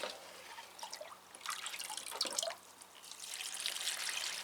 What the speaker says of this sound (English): But we'll give it a good watering.